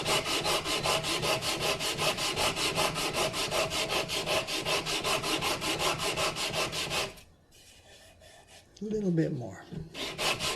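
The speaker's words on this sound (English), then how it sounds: "This is a nice trick with a piece of paper, so you can just take it down to where you want without sanding the rest of it." Paper rubbed back and forth against guitar fretboard binding gives steady, rhythmic scraping strokes for about seven seconds; a brief short remark follows in a quieter pause.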